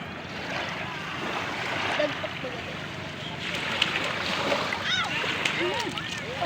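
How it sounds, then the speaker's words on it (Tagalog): Strong sea waves surge and splash in a continuous rush close by, with wind and faint birdlike chirps over the noise and people speaking now and then. "Wow, lakas ng alon."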